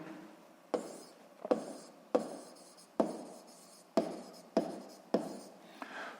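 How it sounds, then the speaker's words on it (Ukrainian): A pen writes physics calculations by hand on paper in short scratchy strokes, seven or eight distinct bursts with brief pauses between, close and quiet, with no talking. "Записуємо обчислення."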